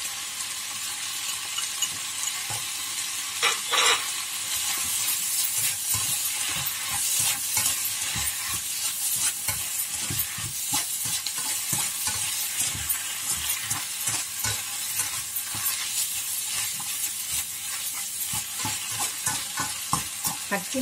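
Garlic frying in a pan for a vegetarian stir-fried wide rice noodle dish, a steady close sizzle with frequent scraping stirs of a spatula throughout, and no talking.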